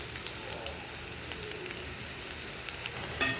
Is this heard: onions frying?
yes